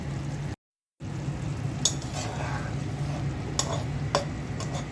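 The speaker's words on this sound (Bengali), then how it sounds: "কাঁকরোল ভেজে, আমড়া দিয়ে ট্যাংরা মাছ ভেজে তরকারি রান্না করছি।" A tangra fish curry with fried teasel gourd and hog plum cooks in a pan. It sizzles steadily up close, with occasional scrapes and clinks of stirring and a brief moment of silence near the start.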